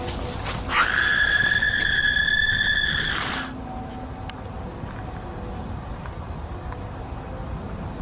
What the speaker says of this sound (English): Some people claim that the scream is fake and edited in.